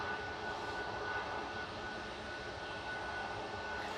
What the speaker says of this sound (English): Jet2 headed off next with flight 1767 to Tenerife South, HLYJ, A321neo lined up on 23 left